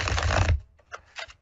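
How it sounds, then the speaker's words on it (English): Tarot cards shuffled during a live psychic reading broadcast: a dense, close papery riffle lasting about half a second, followed by a few soft, brief card taps and slides. "Let's shuffle them once more."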